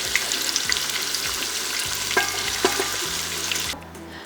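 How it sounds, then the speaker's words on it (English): A summer squash soup mixture simmers gently in a pot, giving a steady dense hiss and bubbling with a couple of faint stirring clinks. The sound drops away suddenly near the end. "Our mixture is kind of lightly simmering right now."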